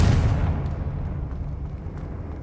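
A Confringo fire spell blasts off in the Hogwarts Legacy video game, a loud, dense burst of rumbling explosion that rolls on and slowly fades over a couple of seconds, with no voices over it.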